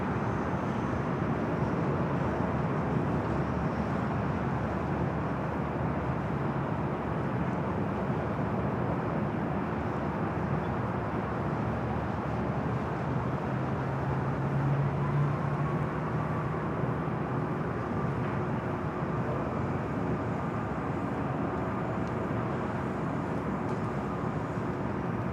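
A heavy jet airliner departs the parallel runway at Los Angeles International Airport (LAX), a steady broadband roar that holds for the whole stretch at a moderate distance, with no talk over it.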